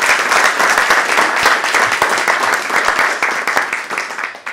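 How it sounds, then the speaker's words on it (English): Audience at a Harlem community startup panel breaks into applause, a dense, steady wash of clapping filling the room and easing slightly at the end. "Let's give him a round of applause."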